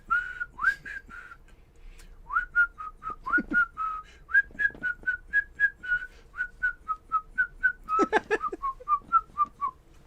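Someone whistles a melodic tune in clear, sustained notes with short gaps between phrases, close and fairly loud, with a brief burst of other noise midway.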